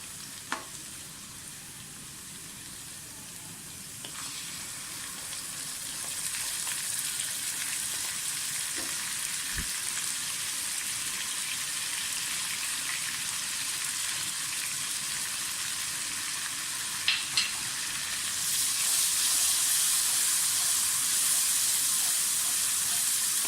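Onions sizzle steadily in a pan with garlic-ginger and green chili paste, a continuous close frying hiss that grows a bit louder partway through, with occasional stirring clicks and no talking.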